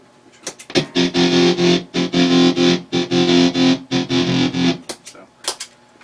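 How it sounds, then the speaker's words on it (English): Heavily distorted electric guitar chords through Z.Vex distortion and tremolo pedals, chopped into steady pulses by the tremolo, loud and continuous with short breaks between phrases. "you can use the Distortion and a Tremolo together"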